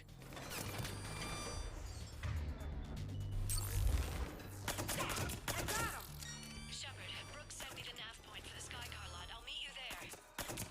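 Gunfire in the video game Mass Effect 3, with bursts of shots and crashing impacts in a busy combat mix, partly under voices talking.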